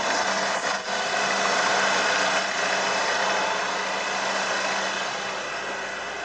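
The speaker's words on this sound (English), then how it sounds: "As you can see, the car sounds good. The engine doesn't make any strange sounds." A Mercedes C180 Kompressor W203 engine idles at a steady pace, with a constant, even hum and no change in revs or knocks. It sounds close and fairly loud, and no one talks.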